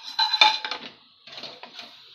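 Large pre-fried onion pieces are tipped into cooked masala in a pan for paneer do pyaza, giving a brief close clatter of metal spoon clinks and scrapes against the pan, with no voices.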